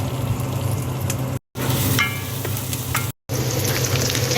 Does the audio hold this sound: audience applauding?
no